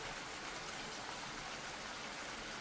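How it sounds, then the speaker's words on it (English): Steady rain falling as an even, continuous hiss, played as background ambience during a tabletop roleplaying game session, with no voices over it. "It's raining. Yeah, it's raining."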